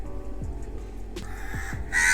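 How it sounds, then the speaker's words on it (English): A crow caws near a house where it comes to feed, giving a few short harsh calls spaced apart over quiet background. "there's this particular crow that comes to my house to eat"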